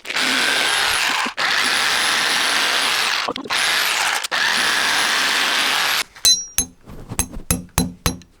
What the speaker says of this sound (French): C'est la première fois qu'on perce la dalle.